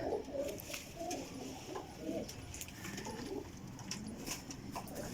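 Teddy pigeons, young birds in a new pen, coo in soft repeated rounds close by, their low throaty calls overlapping steadily with no talk.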